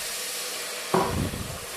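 Hot water poured from a glass into a pot of soup seasoned with mild Turkish pul biber makes a sudden splashing gush that begins about halfway through, over a steady background hiss, then quickly trails off.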